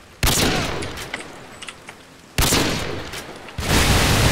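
Ray gun in Call of Duty zombies fires in three loud, abrupt bursts, each with a sharp attack and a lingering, hissing energy decay, close and dominant with no talk over them.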